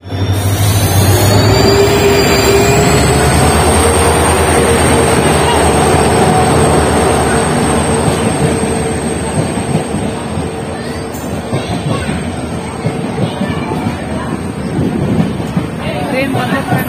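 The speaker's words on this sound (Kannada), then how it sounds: "ಟ್ರೈನ್ ಬಂದ ಫ್ರೆಂಡ್ಸ್ ಇವಾಗ ಹೋಗೋಣ ಬರ್ರಿ." A train arriving at a railway station produces a loud, continuous rumble with a high drawn-out squeal or horn tone riding over it, gradually easing toward the end.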